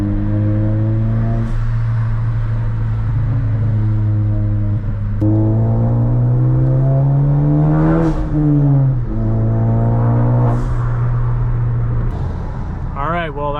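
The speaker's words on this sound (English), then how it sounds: "people can hear the turbo" A Ford Focus ST fitted with a big turbo revs and pulls through the gears nearby, loud engine tones rising and falling several times with a sharp whoosh as the throttle lifts.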